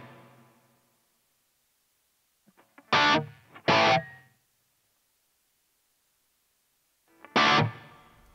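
Short bursts of electric guitar run through a Line 6 HX Stomp with plate reverb, three loud distorted hits separated by silence, the first two close together and each one trailing off briefly.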